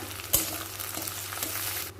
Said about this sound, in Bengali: মশলাটা নামাইয়া তেলের মধ্যে দিতেছি পেঁয়াজ আর তেজপাতা তো এদিকে একটু ভাজুম সাথে দিতেছি একটু কারি পাতা